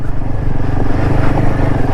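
A Royal Enfield Himalayan 450 motorcycle rides on a mountain road in Spiti, its engine a loud, close, steady throbbing rumble with wind noise throughout.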